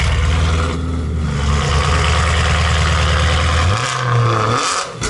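A BMW M3 at the Top Marques Monaco 2018 show: a loud, close engine drones steadily, then revs up sharply near the end before dropping off.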